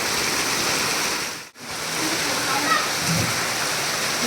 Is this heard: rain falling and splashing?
yes